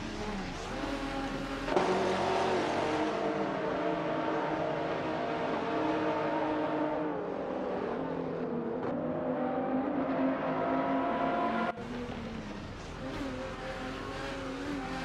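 GTR race cars lapping Misano in a racing video game, a sustained loud engine drone that rises and falls in pitch through gear changes, with a sharp shift partway through.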